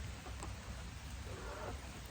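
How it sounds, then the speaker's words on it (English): Steady rain coming down outdoors near a chicken tractor, a dense even hiss and patter with low rumbling, fairly loud and continuous. "That rain is starting to come down pretty good."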